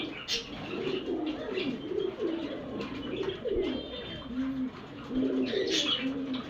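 A male Surmi pigeon coos in repeated low rolling phrases, close and steady, with faint chirps from other birds in a loft behind.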